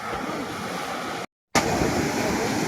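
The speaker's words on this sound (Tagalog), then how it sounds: "Naglalakihan kasi ang mga alon." Big sea waves crashing onto the shore at a fishing port in rough weather, a dense, continuous roar of surf heard loud and alone, broken by a brief cut to silence before resuming.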